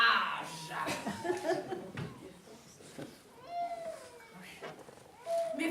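A voice imitates a cat, producing several rising and falling meow-like cries between stretches of talk and light chuckling, moderately close and clear.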